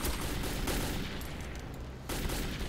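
A machine gun blazes in the video game Metro 2033, a dense, loud, sustained stream of gunfire with a brief lull before it resumes.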